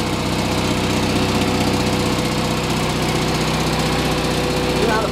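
A loud, steady propane Kohler generator drone runs throughout, rough and rattly from a broken exhaust, with constant mechanical vibration and no pauses.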